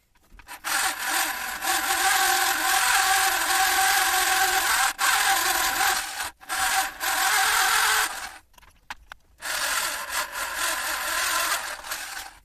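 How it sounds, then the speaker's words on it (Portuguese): A power drill with a 6 mm bit boring out a stuck bolt on the thermostat housing of a 1982 Datsun Urvan SD23 engine, a loud, harsh grinding whir running in long bursts with brief pauses, close up. "Para finalizar, com uma broca de 6 mm, vamos abrir o resto do buraco para tentar extrair o resto do perno."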